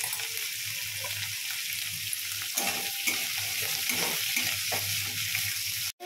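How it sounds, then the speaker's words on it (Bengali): Thinly sliced carrots and peas are stir-fried in a pan for pulao, with a continuous sizzle and scraping stirs that grow busier midway, ending in an abrupt clatter. "এই নাড়ানাড়ি করতে করতেই ভাজাভাজি হয়ে যাবে"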